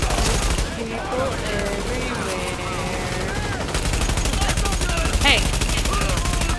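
Rapid gunfire from enemy soldiers in the video game The Division, bursts crackling continuously under a busy game soundtrack, with someone shouting over the fighting.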